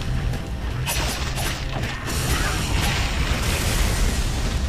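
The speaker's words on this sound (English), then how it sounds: "Ooh, gotta avoid these rockets." Rockets exploding in The Dishwasher: Vampire Smile during a mini-boss fight, heard as dense, loud crashes and bursts layered over continuous game noise, with several sharp hits early and a thick rumbling mix after.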